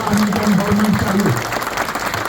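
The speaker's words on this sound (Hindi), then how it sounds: "आप सबों के लिए एक बार जोरदार, बहुत देर से आप लोगों ने ताली बजाया" A crowd at a police lines event in Bhagalpur applauds in a steady wash of clapping while someone speaks over it, his voice dominating the first half before the clapping carries on alone.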